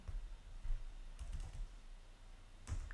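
Code is typed on a computer keyboard, giving a few faint, soft keystroke clicks scattered over a quiet background, with no talking.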